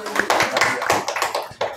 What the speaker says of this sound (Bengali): দাও হাততালি দাও